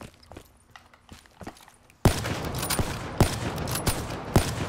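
Gunfire in the Black Ops 3 video game: scattered soft taps and footsteps, then a sudden dense burst of loud rapid shots with sharp cracks repeating over the last couple of seconds, without talk.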